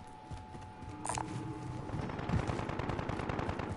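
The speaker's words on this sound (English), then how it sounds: "I hear gunshots so close to me, but I don't have any weapons." Call of Duty gunfire cracks in rapid bursts, somewhat distant and fairly faint, with a few sharper shots amid steady in-game background noise.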